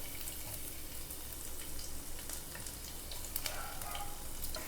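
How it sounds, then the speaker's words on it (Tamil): Ginger and garlic frying in about four tablespoons of oil, a steady soft sizzle with faint crackles and occasional stirring scrapes, continuous and moderately quiet. "இஞ்சி சேர்த்துக்கலாங்க. பொடியா நறுக்குனா பூண்டு சேர்த்துக்கலாங்க."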